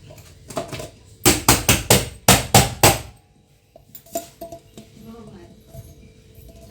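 A metal cake tin holding a semolina cake is knocked and tapped to loosen it, giving a quick run of about seven sharp, close metallic clanks, then softer handling clatter as it is turned over onto a lid.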